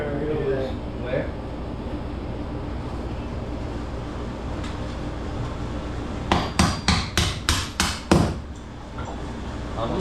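Repeated hammer blows ring out in a quick burst of about six strikes while a rail system is rebuilt in a meat cooler, set against a steady mechanical hum with brief talk nearby.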